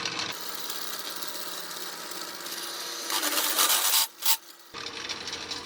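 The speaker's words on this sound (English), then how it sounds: "Now let's turn around and drill the other side." Steady power drilling into a scrap steel hitch mount for a 2-inch receiver, a continuous rasping whir that surges louder near the end, cuts out briefly, then resumes.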